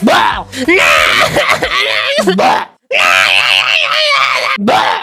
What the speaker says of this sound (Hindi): उनका वो बच्चा रो रो के अलग घर भर देता है